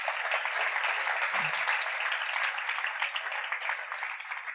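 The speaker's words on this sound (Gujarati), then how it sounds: "ધન્યવાદ, તાળીથી વધાવો." An audience at a spiritual gathering claps in steady, even applause, moderately quiet and sustained throughout, with no voices over it.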